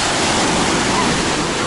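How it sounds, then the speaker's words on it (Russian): Sea waves rolling onto a sandy beach at a Turkish resort, heard as a steady, close, fairly loud rushing roar of surf for a brief moment. "Волны есть, но они не опасные, а очень даже приятные."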